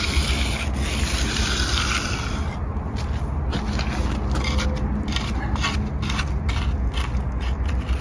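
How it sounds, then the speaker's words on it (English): Steady rough scraping and rubbing as wet concrete is cleaned off a 2x4 board on a pour site, continuous and close against a constant hiss of background noise. "Cleaning off that 2x4 that nobody did first round."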